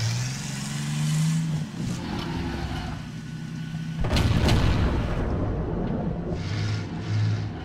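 An AMX AC Mle. 1946 tank destroyer in World of Tanks backing up, its engine droning and shifting pitch, with a sudden heavy boom of cannon fire partway through, and then the engine continuing.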